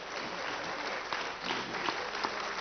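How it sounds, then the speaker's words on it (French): Audience applause after a talk at a conference on Mediterranean arts and cultures: steady, dense clapping from a full hall, continuous throughout with a few sharper individual claps near the end. "vous pouvez l'applaudir"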